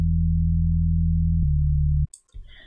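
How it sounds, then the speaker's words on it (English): A pure sine-wave sub bass synth holds two low sustained notes, stepping down in pitch partway, loud and clean, then cutting off abruptly before a brief snippet of other sound. "and then a straight up sine wave, which is a sub bass."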